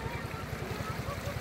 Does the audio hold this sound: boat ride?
yes